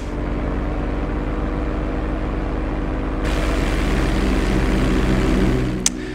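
Airplane at full throttle on a takeoff roll in GTA 5: a loud, steady engine drone with layered tonal hum, swelling brighter midway as power builds, then a brief sharp click near the end.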